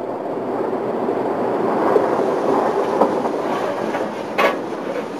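A train crosses the curved stone Landwasser Viaduct on the Graubünden railway, a steady broad rumble with faint rhythmic wheel clatter and a brief squeal near the end.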